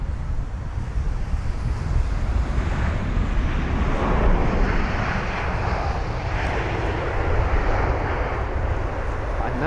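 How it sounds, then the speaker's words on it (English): An Air India Boeing 787-8 Dreamliner lands at Heathrow, a steady broad jet roar that swells and holds for about ten seconds, mixed with heavy wind noise on the microphone. "there's the Air India 787. Shaking a tad. It's a 787-8 Dreamliner from Delhi"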